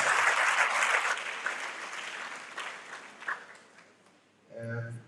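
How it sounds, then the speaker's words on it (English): An audience in a school chapel at a girls' senior high summer camp bursts into dense, sustained applause that fades away over a few seconds, followed by a brief voice. "Shall we give a clap of faith to God for their lives?"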